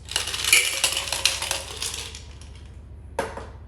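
Ice cubes poured into a cocktail shaker for an espresso martini, a rattling, clinking cascade of hard pieces over a couple of seconds, then a single sharp clink, with a low mechanical hum underneath.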